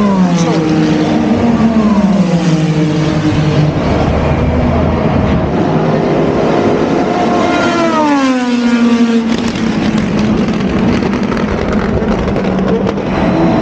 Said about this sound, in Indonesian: Cadillac bunyinya top banget.